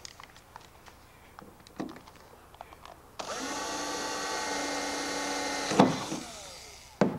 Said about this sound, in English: The first thing I want to do is go ahead and drill these bolt holes out.